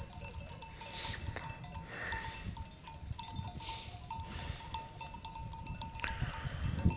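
Sheep bleat in a green field, several faint calls scattered over a steady outdoor background with light clinking, heard at a moderate distance and without speech.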